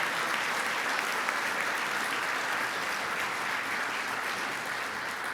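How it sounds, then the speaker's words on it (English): At a Rotary Club meeting honoring Jefferson Award for Public Service recipients, the room gives sustained applause for Reverend Dr. Mary Lehman, a steady, moderately loud rush of many hands clapping without a break. "And one more round of applause for Reverend Dr."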